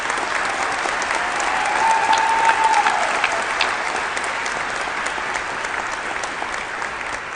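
An audience at a sports awards luncheon gives a round of applause, a steady, even wash of many hands clapping in a large room that swells slightly midway, then holds.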